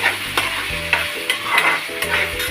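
Tomatoes sautéing in oil in a pan for kathrikai kulambu, with a steady sizzle broken by repeated scraping strokes of a stirring spoon, close and fairly loud with no talking.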